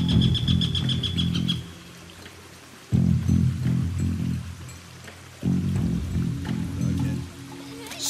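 Birds chirp in the video game Shadow Tactics: Blades of the Shogun, on the Nakasendo Road level. Quick, repeated high tweets come in short bursts over a low ambient music bed that swells and drops in waves.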